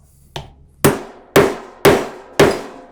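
Four loud, evenly spaced hammer strikes on a 1.5 inch square edge strap end punch cutting through a leather strap, each blow sharp and close after a lighter opening tap, with no talk.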